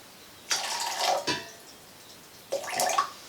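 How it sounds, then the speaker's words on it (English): Hot water pours from a kettle in two short bursts with a gurgling, splashing sound, separated by a pause, fairly close and otherwise quiet. "I'm just going to put 250 milligrams of water in"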